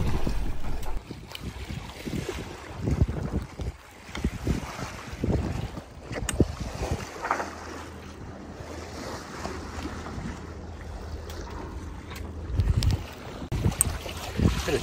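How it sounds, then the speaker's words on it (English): A sailboat moves through choppy water in light wind, with slapping waves against the hull, splashes and gusty wind buffeting the microphone, loud and close throughout. "Bit of chop out here today."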